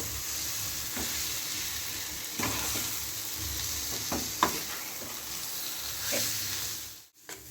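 Boiled potatoes tossed with spices in a hot pan for a bread pakoda filling, giving a steady sizzle with a few stirring scrapes, close and fairly loud with no talking.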